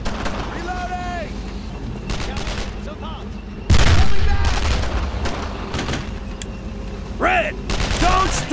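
Gunfire in the World War II shooter Brothers in Arms: Road to Hill 30: continuous rifle and machine-gun volleys with a heavy blast partway through, loud throughout, with shouted voices mixed in.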